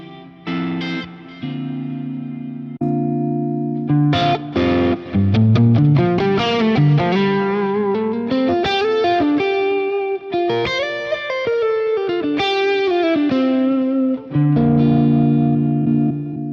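Electric guitar run through a Fractal amp modeler preset, with distorted chords and single-note melodic lines under heavy effects, loud and continuous with no talking.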